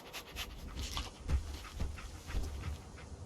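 Dogmeat, the dog companion in Fallout 4, panting in quick, soft rhythmic breaths with faint whimpers, close but quiet, with no voices.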